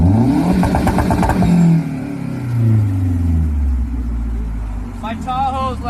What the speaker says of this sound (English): Just gonna rev it.